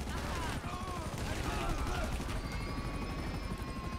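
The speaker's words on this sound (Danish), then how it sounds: "Helikopter." Helicopter in GTA 5 flying in a chaotic scene, its steady rotor drone running through the whole moment among gunfire-like bursts and other game noise, with a faint rising whine toward the end.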